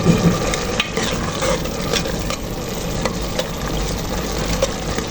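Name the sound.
frying and browning food with butter in a pan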